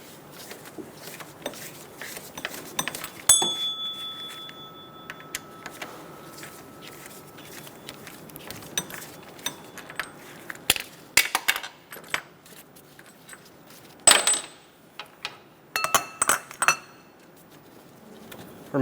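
Metal tools clink and rattle while bolts are removed from an engine mount on a 2003-2007 Honda Accord with a 17mm wrench, giving sparse, irregular sharp ticks and clanks with quiet gaps.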